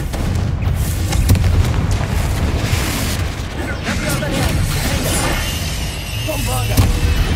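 A Confringo fire spell from the Hogwarts Legacy game blasts with dense, booming explosive bursts and crackling debris over a continuous loud din, with a voice speaking through the noise.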